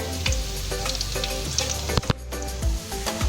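Chicken kabiraji fries in a pan of hot oil, with a loud, continuous sizzle and crackle marked by occasional pops and a brief dip midway.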